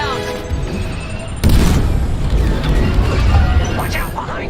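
A missile strike booms in the Star Wars Squadrons space-combat game, a sudden loud blast that cuts in partway through and holds a dense roar over a mechanical, whirring cockpit bed.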